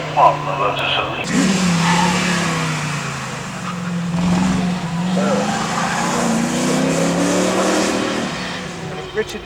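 A Lotus Elite race car climbs a hill at a speed championship, its engine rising and falling in pitch as it accelerates through gears, fairly close, with a commentator talking over it.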